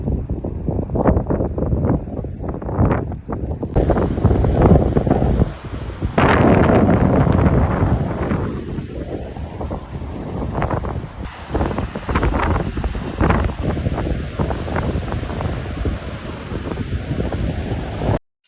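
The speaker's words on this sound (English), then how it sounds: "As you can see, it was super windy when we came here." Strong wind roars across the microphone at the cliff edge of Slope Point, New Zealand's South Island, a loud continuous buffeting with gusts and faint surf beneath.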